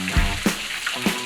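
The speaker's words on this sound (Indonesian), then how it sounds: "Oh, bisa udah digoreng lagi biar lebih crispy." Duck pieces sizzle as they are fried a second time in hot oil, a steady crackle with a few soft stirring knocks over a short stretch.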